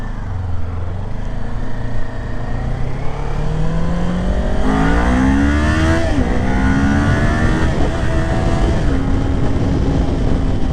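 A motorcycle engine revs hard and loud, close up, climbing in pitch and dropping as it shifts through gears, with one hesitant shift partway through, ridden on a road in winter.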